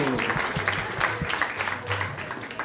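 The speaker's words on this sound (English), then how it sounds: "Please give them a big round of applause." Audience applause at a Sunday feast program, a steady wash of clapping from a gathered congregation after a talk, moderately loud and continuous with some voices mixed in.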